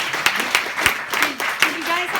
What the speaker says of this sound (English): I didn't mean to clap and cut the conversation